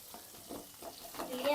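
Fish fries in hot oil in a home kitchen, a soft steady sizzle with stirring and scraping noises, faint and close, swelling slightly toward the end.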